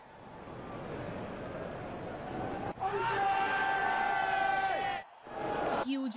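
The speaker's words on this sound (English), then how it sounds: "Crowd is going crazy." A cricket stadium crowd roars during an India versus New Zealand match, a distant wash that swells into loud, drawn-out shouting and cheering, cuts off briefly, then surges again.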